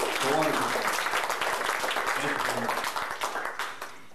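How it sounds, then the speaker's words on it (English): An audience breaks into steady applause at a club show, dense clapping that gradually thins toward the end, with a voice briefly heard over it at first. "Let's give him a big round of applause, please."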